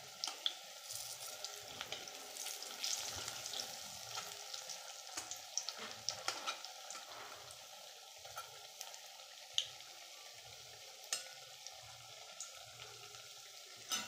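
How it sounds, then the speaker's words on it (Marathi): Idli pakoras deep fry in hot oil with a steady close sizzle and bubbling, broken by soft stirring clinks, and no voices. "खरपूस तळून घ्या."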